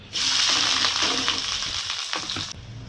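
Curry leaves and chopped onions hit hot oil in a mutton fry, giving a loud, steady hiss. A few stirring clatters sound before the sizzle cuts off abruptly near the end.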